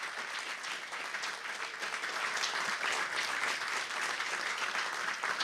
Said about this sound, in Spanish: Un aplauso para estas 6 maravillosas personas que nos acompañan hoy.